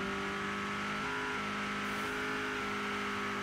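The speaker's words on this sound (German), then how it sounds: "Das Auto hört sich auch nicht mehr gut an." A steady, rough car engine in the game State of Decay 2 drones continuously with a strained, uneven tone from damage, loud and close, with no talk.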